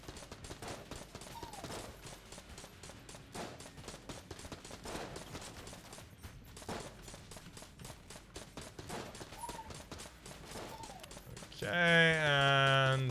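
Rapid nail gun fire in the video game Enter the Gungeon, a dense stream of quick repeated shots over game sounds, ending with a rising musical chime.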